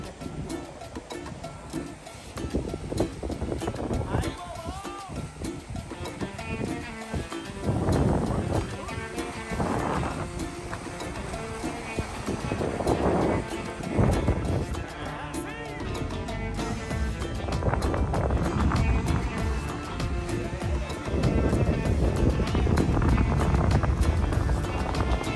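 Strong wind gusts by the sea buffet the microphone in a loud, continuous rumble, with surging waves underneath and no clear speech.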